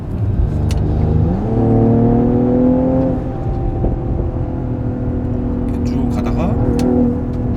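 A Mercedes-AMG GLE 53 SUV with a six-cylinder engine accelerates in Sport Plus mode, its engine note climbing in pitch and then holding a steady, close, loud drone while someone talks over it.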